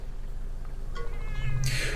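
Cat meowing in the Monster Hunter Stories video game, a short bright meow rising near the end over a low steady game ambience.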